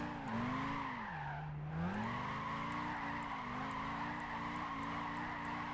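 Tires on a Dodge Viper SRT10 squeal continuously as it drifts around a track in Gran Turismo 5. The loud, sustained screech bends in pitch as the car slides, with engine drone underneath and no talking.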